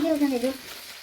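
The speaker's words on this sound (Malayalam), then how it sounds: "അപ്പോൾ നമ്മൾ സവോള ഇട്ട് കൊടുത്തു." Steady broadband sizzle of onions frying in a pan, with a brief faint voice-like tone at the start before the frying continues alone.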